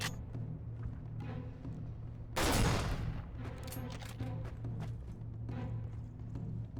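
A short burst of gunfire from a weapon in a video game, set in a gulag, cracks out loudly for about half a second amid quieter background game sounds.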